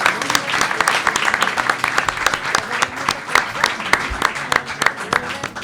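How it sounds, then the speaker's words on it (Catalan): A studio audience claps in a sustained round of applause at the end of a talk-show segment, with many sharp individual claps close by and steady throughout. "Un aplaudiment un altre cop."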